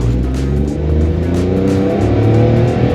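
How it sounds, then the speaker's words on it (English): A small Suzuki micro car engine revs hard and loud during a launch, its whining pitch climbing as it accelerates, with a rough buzzing edge and no talking. "Sounds like the engine is going to explode."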